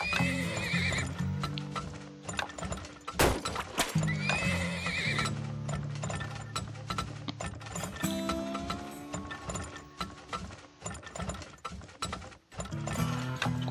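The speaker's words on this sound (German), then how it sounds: "Und entsprechend erstmal noch ein paar Pferdchen dazu." Horses neigh and whinny repeatedly in the video game Turmoil, with clip-clop hooves, mechanical ratcheting gear sounds and light game music layered throughout; several loud whinnies stand out near the start and middle.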